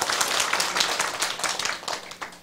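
An audience at a closing address of a law seminar claps together in a dense, steady patter of many hands that thins slightly toward the end, with no one talking over it.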